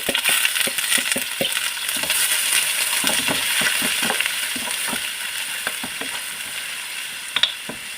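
Chicken kabsa ingredients hit hot cooking oil with a steady, loud sizzle, broken by scattered clicks and scrapes of stirring throughout.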